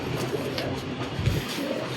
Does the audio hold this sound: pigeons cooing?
yes